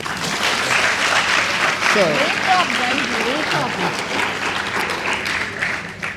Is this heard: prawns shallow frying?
no